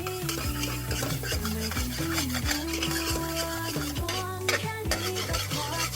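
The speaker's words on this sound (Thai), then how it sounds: "ผัดให้เนยละลายให้หมดเลยครับ" Butter melting as it is stirred in a frying pan, a steady run of scraping stir strokes with a light sizzle underneath, close and continuous, over background music.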